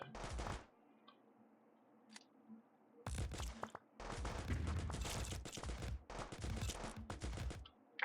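Machine gun fire in the video game Mining Survivors: a short opening burst, then long, dense stretches of rapid automatic shots that nearly fill the last five seconds, loud and close.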